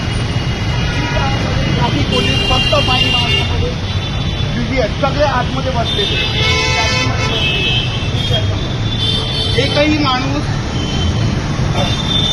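Heavy traffic jam on Ghodbunder Road, with car horns tooting repeatedly over a dense, steady roar of idling and crawling vehicles, and someone speaking throughout.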